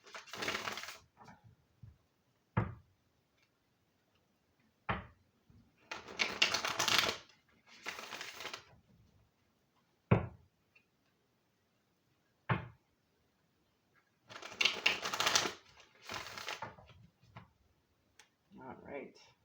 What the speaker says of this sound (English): Let's get 3 good shuffles.